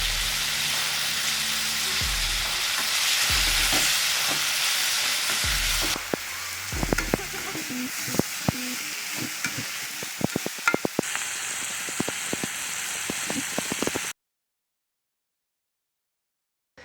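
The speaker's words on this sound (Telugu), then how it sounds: "ఒక స్పూన్ అంతా జీలకర్ర వేస్తున్నా." Cumin seeds and tomatoes frying in a pan for broccoli curry, with a steady close sizzle and crackle broken by sharp spoon knocks and scrapes of stirring, ending in sudden silence.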